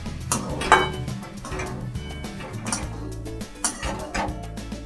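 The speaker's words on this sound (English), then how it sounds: "it's time to add the dalia. And I'm going to mix it with the vegetables" A spoon stirs dalia through cooked vegetables and tomatoes in a pot, with repeated clinks and scraping taps against the metal at a steady, busy rhythm, close and fairly loud.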